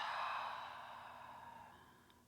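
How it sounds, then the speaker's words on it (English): During a prenatal yoga class, a single slow, deep exhale breathes out close and soft, trailing off gradually into quiet. "One more breath in, and one more breath out."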